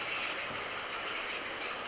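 A model passenger train runs along its layout track with a steady, even rolling rumble and a soft hiss, moderately close and unbroken, with no voices.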